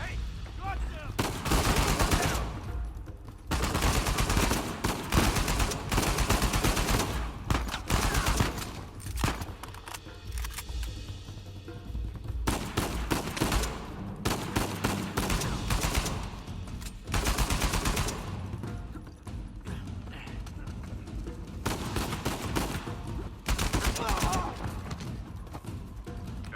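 Gunfire in an Uncharted 4 firefight, loud rapid bursts of automatic shots and heavy thumps repeating in waves over nearly half a minute, with occasional voices between volleys.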